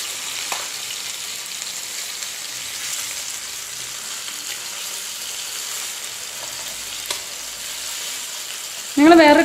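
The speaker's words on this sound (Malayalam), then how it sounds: "കുറച്ച് നേരം അങ്ങോട്ടും ഇങ്ങോട്ടും തിരിച്ചിട്ട് വറക്കുന്നതായിരിക്കും നല്ലത്." Fish fries in hot oil with a steady, dense sizzle and crackle that runs unbroken throughout. A brief voice cuts in at the very end.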